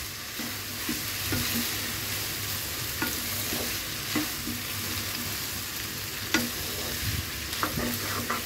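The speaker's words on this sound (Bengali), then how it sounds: "ব্যাস, এখন জাস্ট মিশিয়ে মিনিট 2 ভেজে নিলেই হয়ে যাবে" Dragon noodles stirred and fried in a hot pan, a continuous close sizzle broken by repeated scraping and clattering strokes of the spatula, with no talking.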